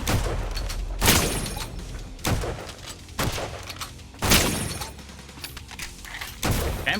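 Bullets fire in bursts in the video game Holy Shoot: about five loud, sharp volleys land at irregular intervals over a dense, continuous layer of game combat noise, with no voices.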